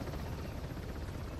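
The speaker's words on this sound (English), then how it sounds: "That chopper is going to be such a problem." A helicopter in the video game Uncharted: The Lost Legacy chops and whirs faintly in the distance, a dull, steady rotor drone with no voices over it.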